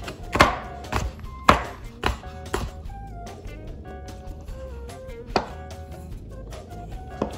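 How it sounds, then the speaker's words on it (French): Knife chopping through a boiled egg on a board, cutting thin slices: a few loud, sharp chops at the start, then lighter scattered taps with quiet gaps, plus one more firm chop later, close up and with no voices. "on va couper des petites tranches comme ça"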